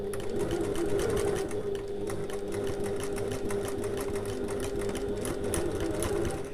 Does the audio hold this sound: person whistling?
no